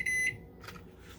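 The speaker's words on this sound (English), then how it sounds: "The timer is going to go off." A heat press timer gives a short, clear electronic beep, a single bright tone lasting a fraction of a second before fading into quiet room noise.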